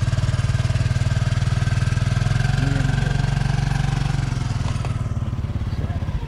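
A motorcycle engine runs steadily close by, a constant low idling drone with a rhythmic pulse that holds level for several seconds and eases slightly toward the end.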